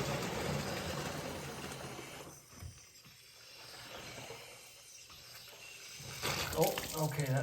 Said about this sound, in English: I'm just gonna fill it up with coolant